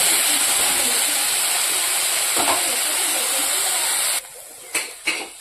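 Potatoes, eggplant, chilli and onion frying in a pan, giving a steady loud hiss of sizzling oil that stops abruptly near the end, followed by a couple of short bursts.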